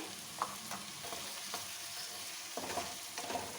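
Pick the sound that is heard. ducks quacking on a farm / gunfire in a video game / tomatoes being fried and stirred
tomatoes being fried and stirred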